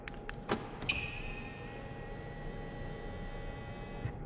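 On a 2020 Audi R8 V10 Performance, a few quick clicks of the lock, then a thin motorized whir as the side mirrors fold, running steadily for several seconds and ending with a soft clunk.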